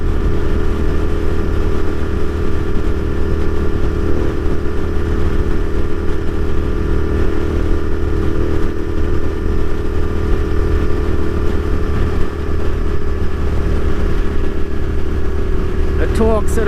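A Royal Enfield Continental GT650 twin motorcycle accelerating uphill in fifth gear, a loud, steady engine drone with continuous wind rush and no break in the throttle.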